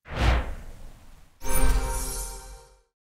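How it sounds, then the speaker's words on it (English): A fantasy wizard's staff whooshes through the air in a swelling swish, then a bright magical gem recharge chime rings out with a shimmering, sustained tone that fades away. "you hear the sound of the wizard's staff whoosh through the air as he brings it back to recharge the gem"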